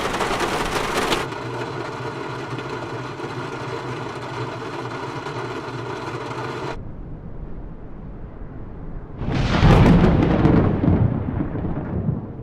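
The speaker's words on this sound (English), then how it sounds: "We also have rain, thunder, and even storm for a complete weather experience." A thunderstorm in Microsoft Flight Simulator 2020 follows a droning aircraft engine hum that cuts off, then a loud rolling thunderclap bursts out and slowly fades.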